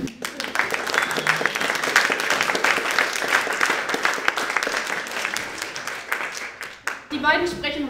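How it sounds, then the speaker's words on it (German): An audience at a Skeptics in the Pub event in Hamburg applauds steadily for several seconds, dense clapping that ends abruptly, followed by a brief snatch of talk. "Einmal bitte Applaus."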